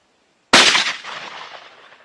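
One sharp, loud 12-gauge shotgun shot of a handloaded shell cracks after a brief silence, followed by a rolling echo that fades over about a second and a half.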